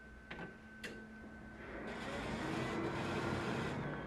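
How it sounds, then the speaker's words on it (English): A solvent printer drives its printhead across the carriage from the right side to the left during head maintenance. After two sharp clicks comes a rising mechanical whir that holds steady, close and moderately loud. "move the printhead from the right side of the printer to the left side of the printer"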